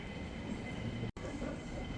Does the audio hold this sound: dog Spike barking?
no